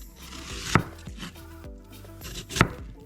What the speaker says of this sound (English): So after you peel the apple, you slice it.